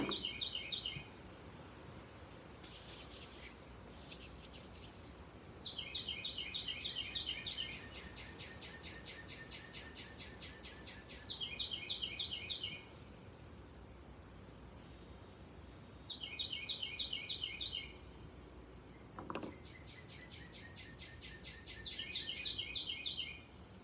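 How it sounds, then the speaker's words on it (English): Songbirds chirp in repeated bright, trilling bursts outdoors around a ceramics studio, loud and close, with steady background hum between phrases and no talking. "And the birds are so loud today."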